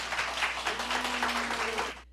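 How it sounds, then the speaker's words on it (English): A crowd at a county commission meeting reacting to an airport board vote with a hissing wash of applause and mixed jeering voices, fairly faint and distant, lasting about two seconds before cutting off. "ended with applause and boos from the crowd when the vote was read"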